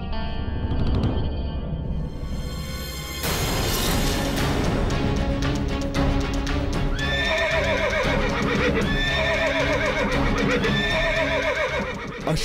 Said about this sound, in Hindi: अश्व इस प्रकार क्यों हिनहिना रहे हैं?